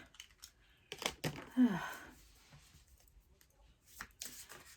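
Tarot cards are shuffled by hand in a few quick riffling bursts, close and soft, with brief pauses between the rustling flurries.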